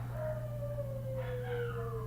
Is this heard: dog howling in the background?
yes